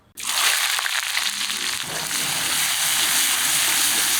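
Chopped onions drop into hot oil in a wok already tempered with bay leaf and dried red chili, setting off a sudden loud sizzle that settles into a steady, close frying hiss.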